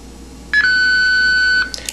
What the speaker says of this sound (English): Two beeps play.